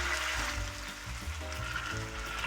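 Pulled pork laid fat side down in a hot pan for tacos, sizzling and frying steadily with a close, continuous crackle under low background music.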